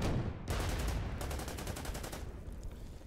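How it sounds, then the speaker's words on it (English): A unit opens fire on an enemy tank in the strategy game Order of Battle, a loud burst of rapid gunfire with a brief gap, then a dense rattling volley that trails off, with no talk. "I'm going to go ahead and fire on this tank."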